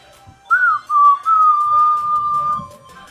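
A person whistles a few clear notes close by, a short opening chirp followed by one long sustained tone that slowly falls in pitch.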